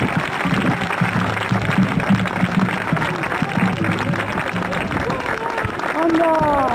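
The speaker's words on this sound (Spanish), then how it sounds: "creo que se los podemos recompensar con un fuerte aplauso" An outdoor audience applauding at a battle reenactment of Almansa, a sustained spread of clapping from a crowd with voices and talk mixed in throughout.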